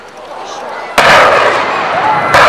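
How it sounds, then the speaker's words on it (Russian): Rocket depth charge salvo from an RBU launcher fired by the small anti-submarine ship Suzdalets, two sharp loud bursts a little over a second apart, each trailing into a rushing roar, with a voice narrating. "обнаруженная подводная лодка основы противника уничтожается залпом реактивной бомбовой сборки малого противолодочного корабля"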